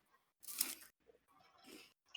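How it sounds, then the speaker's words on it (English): Crisp, close crunches from biting into a crunchy chocolate snack, a few short bursts separated by quiet pauses, with no talking. "Oh, that was a crunch."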